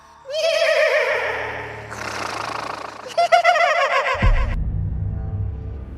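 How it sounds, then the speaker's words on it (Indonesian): A horse whinnies loudly in long, shaky, repeated calls for about four seconds, then stops as a low rumbling drone takes over. "Suaranya suara ringkikan kuda"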